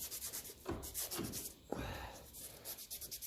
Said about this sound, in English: So run the sandpaper around.